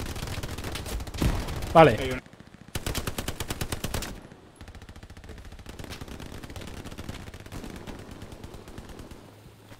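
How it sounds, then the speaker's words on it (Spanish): Bursts of automatic and rifle gunfire in the World War II shooter Hell Let Loose, loud and rapid, with rattling volleys that stop and start, then continuous distant fire, while a player speaks briefly. "¡No pares de disparar!"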